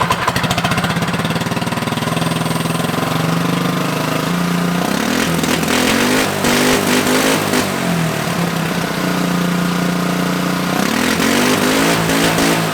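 A turbocharged Predator 212 go-kart engine runs steadily and loudly up close, a continuous buzzy drone whose pitch wavers and rises with revving, with no talking.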